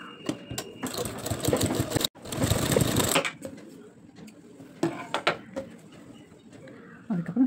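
A sewing machine stitches the lining cloth of a blouse in two loud, close whirring runs with a short break, followed by quieter handling clicks and faint bird calls in the background.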